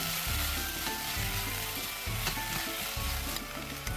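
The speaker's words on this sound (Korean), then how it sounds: "팬에 오일을 넉넉히 두른 후 썰어놓은 감자 그리고 마늘 1스푼 넣고 감자 겉면이 살짝 익을 때까지 볶아줍니다." Sliced potatoes and a spoonful of garlic stir-fry in plenty of oil in a pan, giving a steady close sizzle broken by repeated scraping stirs.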